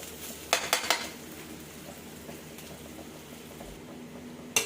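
A spoon clinks and scrapes against a pot as rice with vermicelli is stirred in ghee, with a quick cluster of close metallic taps early on, then a soft low simmer and one last clink at the end.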